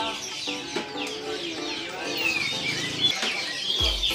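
Ornamental chickens, including serama bantams, clucking at a kiosk selling fancy pigeons and chickens, with scattered chirps and bird calls amid light background noise.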